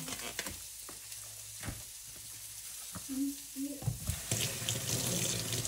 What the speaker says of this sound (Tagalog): So, ang mais kailangan nating hugasan.